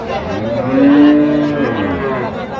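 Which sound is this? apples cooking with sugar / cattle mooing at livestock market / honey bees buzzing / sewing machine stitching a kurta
cattle mooing at livestock market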